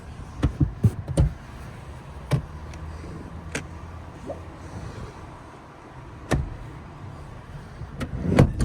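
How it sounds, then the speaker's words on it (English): A seat lever on a 2021 Toyota 4Runner is pulled, and the third-row seat slides out. Several sharp mechanical clacks and thumps sound nearby, with a rattling slide between them and a cluster of knocks at the end. "we can access the 3rd row seat by pulling this lever down over here, and also at the bottom sliding it out"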